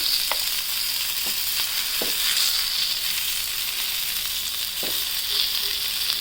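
Pomfret fish fries on a tawa over a low flame, giving a continuous close sizzle with a few soft scraping clicks, and no one speaks.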